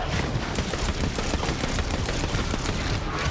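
Smart-bullet gunfire in Borderlands 3, a dense continuous rattle of rapid shots and impacts filling the whole stretch at steady loudness, with no pauses.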